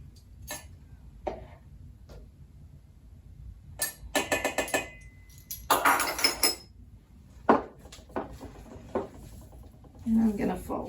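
Ricciarelli dough being folded in a bowl gives soft scrapes and clinks of a utensil against the bowl, scattered and intermittent, with a few louder rubbing sweeps in the middle and a voice speaking between them.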